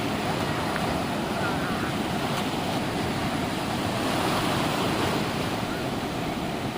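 Continuous roar of surf and breaking waves on Bakkhali sea beach, with heavy wind buffeting the microphone throughout.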